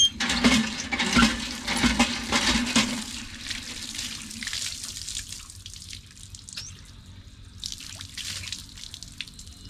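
Tap water gushes and splashes as someone washes their face at a roadside stop on a cycling trip near Kochi, loud at first, then settling into quieter trickles and drips.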